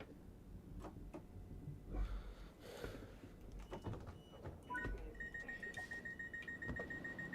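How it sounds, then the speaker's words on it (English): Cab vigilance alarm in the Train Sim World 6 East Coastway route, heard from outside the cab: a steady, repeating electronic beep sounding over ambient game noise and footsteps during the second half. "I can still hear the vigilance alarm, even outside the cab"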